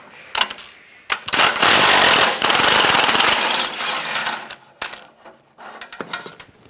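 A 13mm socket on a ratchet works the top starter bolt loose on a 2006-2009 Mercedes-Benz E350, with bursts of rapid ratcheting clicks and metallic rattles close up.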